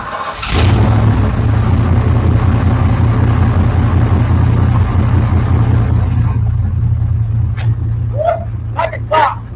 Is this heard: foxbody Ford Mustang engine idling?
yes